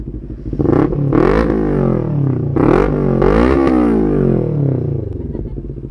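A Kawasaki Ninja 400 motorcycle engine revs hard several times in quick bursts, close and loud, each rise followed by a falling idle.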